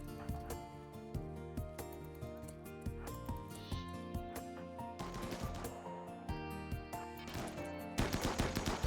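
Colonists fire guns in RimWorld, a quiet string of evenly spaced shots over background music that thickens into rapid bursts of overlapping gunfire toward the end.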